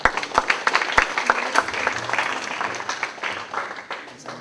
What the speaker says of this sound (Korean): 나오실 때 박수로 환영해 주시면 감사하겠습니다.